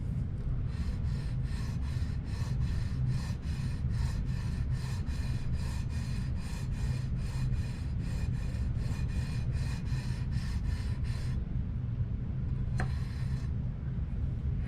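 Guitar frets rubbed with worn 1200 grit abrasive during a fret setup, a steady rhythmic back-and-forth scraping of about two strokes per second, close and continuous, stopping briefly before a final stroke; no voices.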